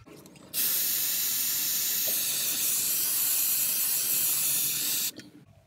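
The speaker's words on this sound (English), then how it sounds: "Now I use brake cleaner." Brake cleaner sprays onto the oil-covered engine block of an 80 Series Land Cruiser in one loud, continuous hiss lasting about four and a half seconds, which then cuts off abruptly.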